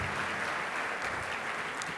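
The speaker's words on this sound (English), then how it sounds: "Can we give him a round of applause?" An audience at a public talk in Tashkent applauds the book's translator with dense, even clapping that stays full and steady for the whole stretch, with no voices over it.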